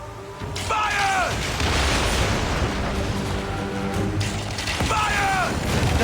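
Cannon fire from warships during a naval battle in Assassin's Creed Origins, a dense rumbling barrage with heavy booms throughout, and shouted voices over the din.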